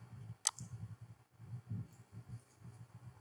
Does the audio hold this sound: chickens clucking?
no